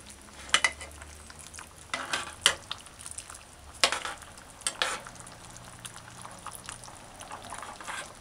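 Pig's trotters and butter beans being stirred gently in a pot of curry, with scattered scraping and clinking strokes of a spoon against the pot over a soft bubbling, frying background, close and moderately quiet.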